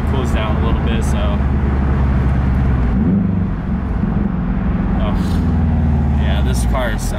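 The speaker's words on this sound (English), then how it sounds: "This car sounds so good. Sounds so amazing, honestly. This Tome is literally the best exhaust you could buy for this car." A tuned sports car idles through a Tomei aftermarket exhaust, a deep, steady low rumble close by with a slight rise in the middle and faint chatter over it.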